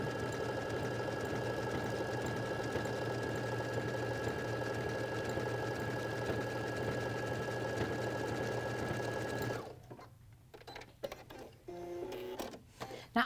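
A Baby Lock sewing machine with a garment maker foot runs steadily, sewing a decorative stitch that joins two fabric edges, a continuous close mechanical hum for most of the span before it stops, leaving faint handling clicks and rustles.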